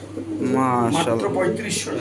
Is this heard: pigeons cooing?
yes